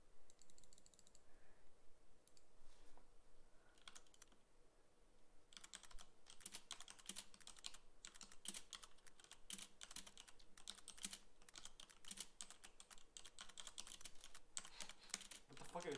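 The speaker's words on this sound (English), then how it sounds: "You're typing, look at what you typed." Keys clatter on a computer keyboard in quick, irregular bursts, faint and close, with occasional pauses and soft voices in the background.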